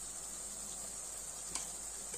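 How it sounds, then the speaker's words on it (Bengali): Onion, ginger and garlic paste fries gently in a pan, giving a faint, steady high hiss with a brief spatter partway through. "এই পেঁয়াজ, আদা, রসুনের পেস্টটা হালকা ভাজা হয়ে গেছে"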